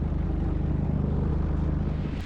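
Sailboat inboard engine running steadily at 1500 rpm while motoring out, a loud, even low-pitched throb filling the whole moment with no talking.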